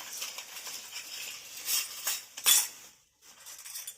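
Several metal spoons jangle and clink against one another in close, uneven bursts, with a brighter sharp clatter midway and a brief pause before more light rattling.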